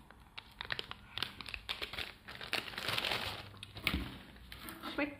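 A plastic bag of Japanese Christmas sweets crinkles close up in irregular bursts of rustling and crackling, louder in the middle stretch, with no talk.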